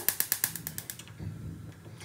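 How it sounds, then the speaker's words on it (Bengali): A gas stove being switched on: a quick series of about seven sharp igniter clicks, close and fading, followed by a soft whoosh of the burner catching. "তো রান্নাটা করার জন্য প্রথমে গ্যাসটাকে অন করে দেবো।"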